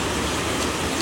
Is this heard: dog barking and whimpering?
no